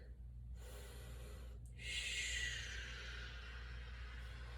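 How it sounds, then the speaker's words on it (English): A deep breath during a yoga stretch: a quiet, close inhale that swells after a brief pause and then trails off softly above a low steady hum, with no speech. "Take a breath."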